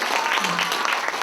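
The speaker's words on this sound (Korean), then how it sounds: "큰 박수 부탁드립니다" Audience applause at a Gyeongsang dialect speaking contest as guests are introduced, a steady dense wash of clapping throughout, fairly loud and with no talk over it.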